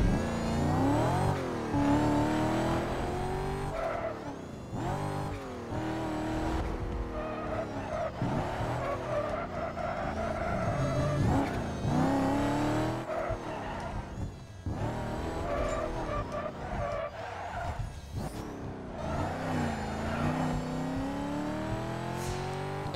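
Drift racing cars in Need For Speed Carbon, engines revving and shifting pitch continuously with squealing, skidding tires throughout, loud and sustained with no talk.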